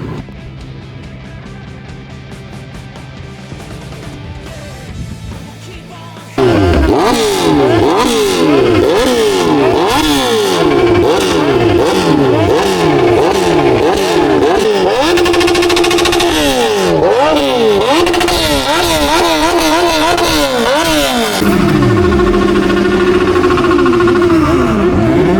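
Superbikes at a college auto expo in Vijayawada rev loudly and close by. A low idle gives way to repeated rising and falling engine roars that overlap and go on for over twenty seconds.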